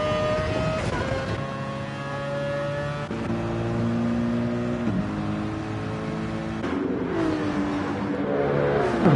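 GT race cars in a video game lap Monza in a pack, with several engines droning and revving at once and pitch sweeping up and down through gear changes, loud and continuous with no talking.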